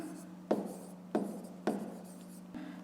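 A pen taps and scratches on paper while a fifth-grade math exercise is written out, four distinct strokes landing about half a second apart, close and quiet, with no speech.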